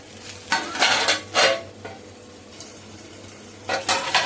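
Coriander added to spice paste in a pan for taro leaf and lentil fritter preparation, with several loud clattering scrapes of a spoon against the metal pan, spaced bursts separated by quieter gaps, no talk.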